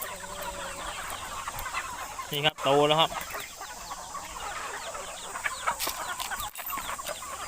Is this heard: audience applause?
no